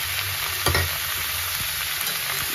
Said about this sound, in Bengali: সব একসাথে ভালো করে কষিয়ে নেব।